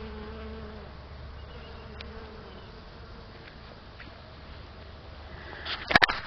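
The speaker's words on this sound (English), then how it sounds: "my bees just love it. They are just covered. You can probably hear them." Many bees buzz steadily around broccoli plants gone to seed in a garden, a soft continuous hum that lingers throughout, with a brief louder rustle or bump close by near the end.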